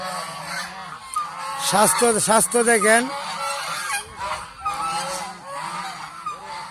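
Geese on a Bangladeshi goose farm give loud, repeated nasal honks in several overlapping bursts, rising to a dense chorus midway before thinning out, with a voice talking briefly underneath.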